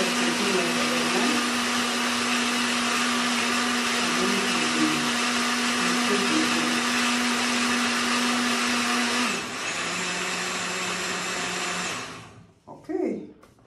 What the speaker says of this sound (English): Look at the high power blender